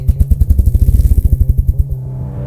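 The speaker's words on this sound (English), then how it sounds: "The grouse beats the air so fast it creates a tiny vacuum, and the thumps roll into a low buzz." Ruffed grouse drumming with its wings: a rapid, accelerating series of deep, close thumps that run together into a low buzzing roll, then fade away.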